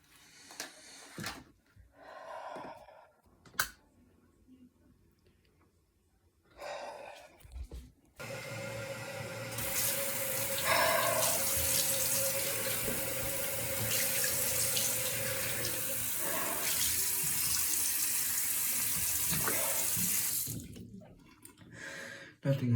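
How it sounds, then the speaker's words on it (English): Cold water gushes steadily from a tap into a sink for about ten seconds, loud and close, preceded and followed by quieter clicks and knocks of a bathroom with no talking. "Nothing like some cold water to wake you up, huh?"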